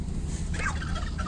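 A turkey gobbles once in a short, rough burst at a mountain campsite during a hunting trip, over a steady low background rumble.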